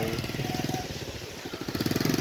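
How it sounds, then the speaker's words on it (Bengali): A motorcycle passes a roadside lined with tethered goats, its engine putting out a steady, pulsing putter at moderate distance that swells toward the end. "মোটর সাইকেলের শব্দ"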